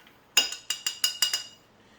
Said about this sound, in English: You want to make sure it's a really good stir so that everything is nice and cold, but it's also nice and mixed.